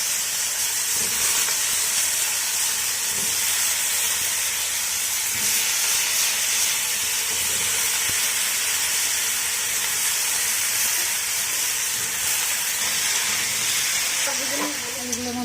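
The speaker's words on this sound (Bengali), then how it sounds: "হালকা করে ভেজে ভেজে তুলে নেবো" Cut potatoes fry in oil in a kadai (wok), giving a constant dense sizzle and hiss at moderate loudness. It carries on unbroken throughout, with a faint clink near the end.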